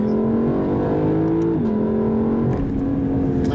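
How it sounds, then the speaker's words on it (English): A 2020 Lexus LC 500 with a 5-liter, 471-horsepower V8 revs in Sport Plus mode. The engine is loud and close, holding a steady drone before the pitch shifts and climbs again, and no voice is heard. "471 horsepower V8 engine."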